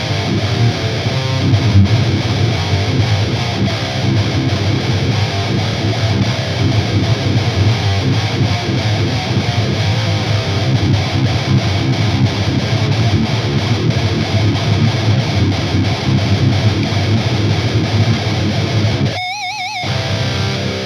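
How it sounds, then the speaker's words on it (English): Heavily distorted electric guitar plays continuously and loudly through a Behringer Heavy Distortion pedal with a second distortion pedal in front, a thick saturated wall of sound that cuts out briefly near the end. "a fort and grind running in front of the heavy distortion pedal"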